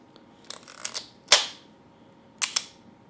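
A vintage Contina camera shutter fires at 1/10 second, giving a crisp mechanical click, a short pause and a second snap, with a lighter double click following; close and clear in a quiet room.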